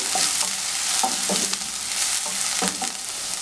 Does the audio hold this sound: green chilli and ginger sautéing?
yes